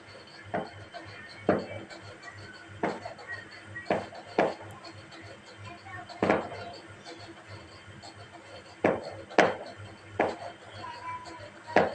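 A spoon scraping and knocking in a pan while a spiced fish curry with ridge gourd and potato is stirred, making a dozen or so sharp, irregular clacks over a low background hum, fairly close.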